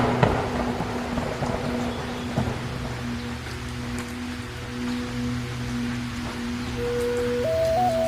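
Steady rain falls in a cartoon village story scene on a rainy morning, a continuous broadband hiss carrying through the whole stretch, with faint tonal background music running underneath.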